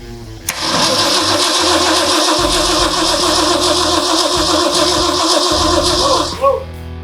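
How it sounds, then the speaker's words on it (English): A truck engine on a home build cranks with a short click, then runs loud and rough for about six seconds before cutting off with a thump; voices talk briefly under it. "Kyler, go ahead and crank."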